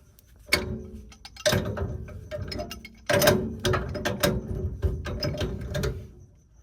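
Wrench tightening a pipe fitting on a gas burner, giving a series of close metallic ratcheting clicks and scraping bursts in irregular clusters, moderately loud and with no talking.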